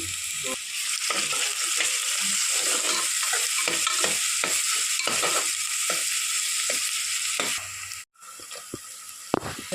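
Onions with ginger-garlic paste fry in hot oil for a village-style mutton curry, a loud steady sizzle with frequent stirring scrapes throughout, dropping out briefly near the end before resuming.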